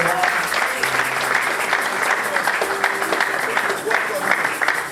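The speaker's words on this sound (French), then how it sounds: "On peut acclamer pour le grand." A church congregation bursts into sustained applause and cheering after a prayer, a steady dense wash of clapping holding for the whole stretch with voices mixed in.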